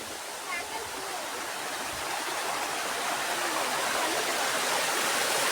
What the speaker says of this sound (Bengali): এটা একটা এই যেটার নাম আছে ঝর্ণা